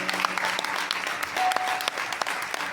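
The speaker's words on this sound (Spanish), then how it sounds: "con un fuerte aplauso al Señor" A church congregation applauds at a Baptist service, a steady wash of many hands clapping together, loud and sustained with no pause.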